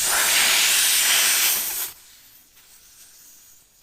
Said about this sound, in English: So now if we put the valve core back in, then we can inflate up the pressure.